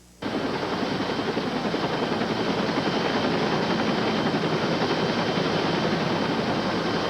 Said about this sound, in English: Three-year-old Olivia and 5-year-old Giselle were taken by AirMed helicopter to Terrebonne General Medical Center